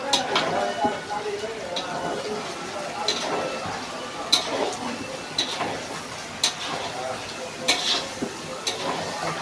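Ginger and garlic frying in a pan, a steady sizzle with repeated sharp clinks of a stirring utensil against the pan, close by, with a voice speaking now and then.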